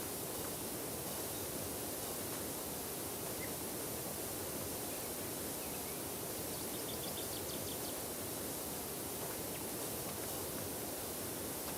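A pressure washer spraying rust off a surface in Power Wash Simulator gives a steady, loud hiss of water spray that runs unbroken throughout.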